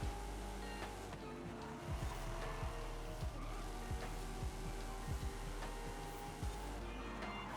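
A '20 Toyota Supra drifts in Forza Horizon 5, with steady engine drone under repeated short tyre squeals and skids spaced every second or so, the noise rising and falling as the car slides through corners.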